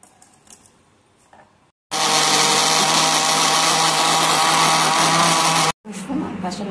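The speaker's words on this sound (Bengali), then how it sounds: "আদা রসুন কাঁচা লঙ্কা আমি বেটে নিয়েছি" An electric mixer grinder grinds ginger, garlic and green chillies into paste, a loud steady whirring roar lasting about four seconds, started and stopped abruptly, with softer kitchen sounds and a little speech before and after.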